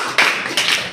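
Audience applause at a village drawing competition on environmental protection, a short burst of clapping rising and swelling again within a second, close and fairly loud.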